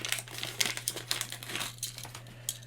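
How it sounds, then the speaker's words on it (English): A small toy robot figure is pulled from a little paper bag, giving a steady run of crisp crinkling and rustling paper sounds close up, with no talking. "So you get the figure out of the little paper bag."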